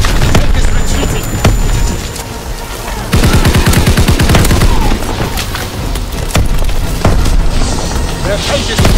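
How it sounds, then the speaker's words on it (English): Automatic gunfire on infantry in Call of Duty: WW2 multiplayer, loud bursts of rapid shots broken by booms and short pauses, with voices and battle noise throughout. "They fire on the infantry!"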